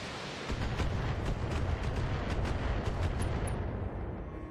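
Slow missiles launch and burst in the BattleTech video game, a rumbling roll of heavy explosions and blasts that swells and fades over a few seconds, with no talk.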